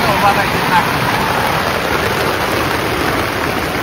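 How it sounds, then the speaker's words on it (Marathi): A heavy downpour roars loud and close as a continuous wash of noise that holds steady from start to finish. "मित्रांनो लय जोरात पाऊस आलाय आता"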